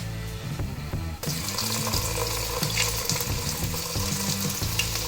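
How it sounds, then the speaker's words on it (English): Dry spices and ginger garlic paste hit hot oil for a dahi chicken, a steady close sizzle starting about a second in and continuing under background music. "The moment it starts to splutter, we add all the dry spices, and along with that we add our ginger garlic paste"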